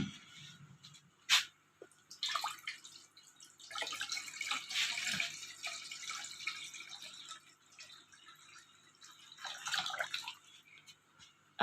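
Water splashes and trickles in short bursts, pouring into a mixer jar, with pauses between pours and soft clinks.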